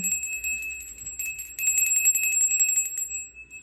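A bell rings in repeated bright chimes with a sustained ringing tone, struck in quick succession and held for a few seconds before fading, alone and fairly close.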